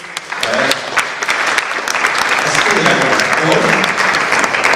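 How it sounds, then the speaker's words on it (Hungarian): A large conference crowd breaks into big applause, loud sustained clapping with some voices mixed in. "egy óriási tapsot"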